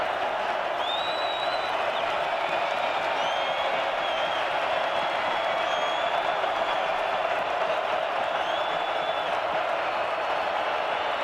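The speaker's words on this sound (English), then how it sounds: "Here comes the crowd again, Jason, to be a 12th defender." A packed college football stadium crowd roars steadily on third and long at an FCS championship second-round game, a dense sustained wall of noise with whistles and shouts rising above it.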